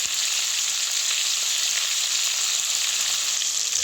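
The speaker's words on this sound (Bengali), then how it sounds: "এইভাবে সমস্ত চিংড়ি মাছ দিয়ে দিলাম। এবার একটু আস্তে নাড়িয়ে দেবো।" Prawns fry in a pan with a bright, constant sizzle, an even hiss that carries through the whole moment with light stirring and no voices.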